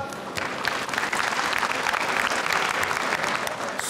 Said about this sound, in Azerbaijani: Dostlar, alqışlar.